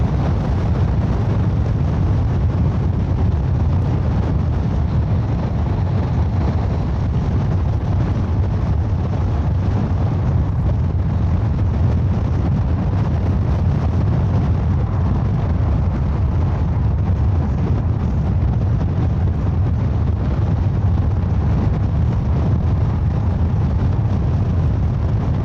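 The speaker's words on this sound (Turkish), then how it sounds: "Bu arada köprüde çok güzel rüzgar var." Strong wind on a bridge pounds the microphone of a rider on a Honda NC750X motorcycle near Istanbul, a constant loud roaring rumble that never lets up for the whole stretch, with no talking.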